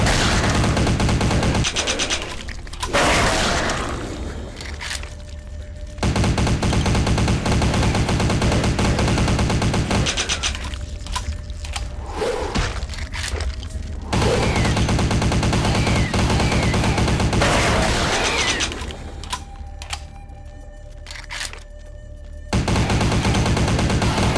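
Rapid automatic gunfire in the Vampire the Masquerade Bloodlines video game with the Final Nights mod: loud, sustained bursts of shots lasting several seconds each, separated by short pauses, with no talking.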